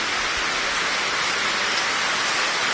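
Heavy rain pours steadily in Abohar, a dense, even hiss of downpour with no breaks, close and loud throughout.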